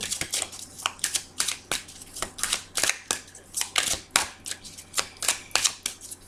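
Tarot cards shuffled by hand in quick repeated riffles and slaps, a rhythmic series of crisp papery bursts at close range with no talk over them.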